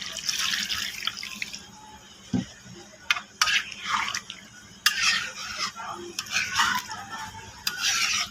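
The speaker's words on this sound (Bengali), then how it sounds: "আমি এখন একটু ঝোল দিয়ে দিব।" Broth is poured into a pot of chicken curry and stirred, giving a quiet run of splashes, trickles and scrapes close by with short pauses between them.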